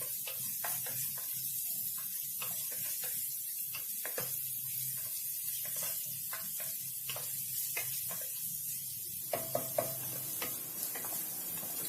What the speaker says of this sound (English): we are going to add our onion. And saute that too.